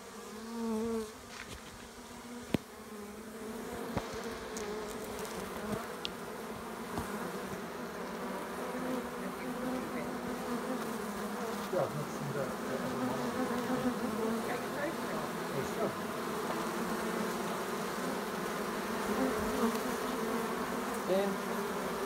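A honeybee swarm being collected outdoors in Hampshire, England in July, bees fanning their wings in a dense, continuous droning hum that swells slightly over time, with faint voices in the background.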